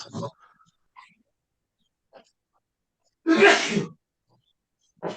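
A single sharp, loud sneeze bursts out close by after a brief quiet spell, with a few faint breaths and small noises scattered around it.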